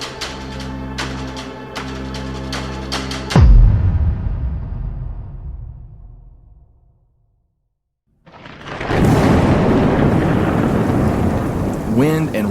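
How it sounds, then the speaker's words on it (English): Thunderstorm with wind and rain blowing through an open kitchen door: a loud thunderclap cracks and rumbles away into near silence, then heavy rain and gusting wind surge in, steady and close, with music fading out at the start. "Wind and rain are blowing in through the door in the kitchen that leads outside as thunder strikes"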